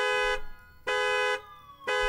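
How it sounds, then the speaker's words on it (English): A car alarm in the Thief Simulator video game sounds in loud, repeating tonal blasts, three bursts with short gaps between them, alone with no talk. "I forgot to turn off the car alarm."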